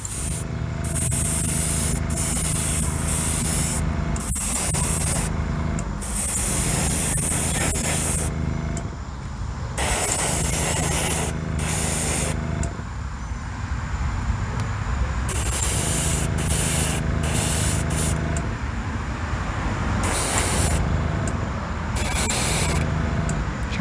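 Spray paint hisses onto a diecast car in repeated close bursts of a few seconds each, coat after coat, with short quiet gaps between sprays and a low background hum underneath.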